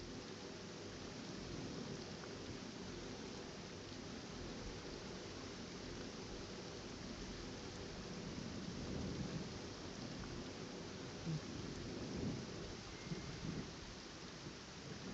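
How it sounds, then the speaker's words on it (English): A rainstorm in the video game Genshin Impact, with steady dense rainfall and low rolling thunder rumbling underneath, continuous and fairly faint, with no voices. "rain won't slow me down"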